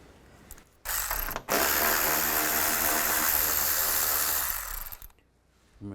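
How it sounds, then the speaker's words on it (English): A ratchet with a 10mm socket spins out grille bolts on a 2011-2015 Chevy Cruze, giving a loud, close, continuous clicking whir for about four seconds, starting and stopping abruptly. "on both sides, you want to take these bolts out. Use a 10mm socket."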